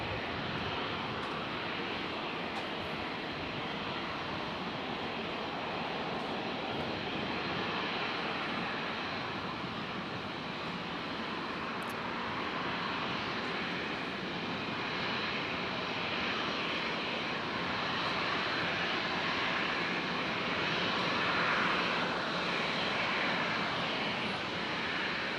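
A Qantas airliner at Brisbane International Airport gives a steady, continuous jet engine roar that holds an even loudness for the whole stretch, with no voices over it.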